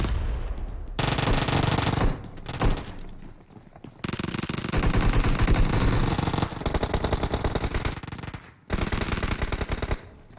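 Automatic gunfire in the battle royale game PUBG Mobile, loud rapid bursts of shots in several long strings separated by short pauses, close and dominant with no talk over it.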